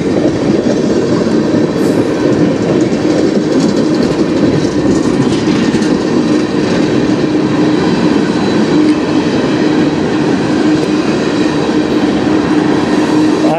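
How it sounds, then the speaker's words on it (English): A CN freight train rolls past close by, a loud continuous rumble and rattle of cars on the rails that holds steady throughout with no breaks. "And this is the first train to the tunnel."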